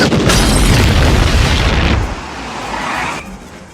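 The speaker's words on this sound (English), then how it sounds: "That sounded like an explosion at the old Simpson place." A cartoon explosion: a loud, deep boom rumbles for about two seconds, then fades into a lower, rolling tail that trails off.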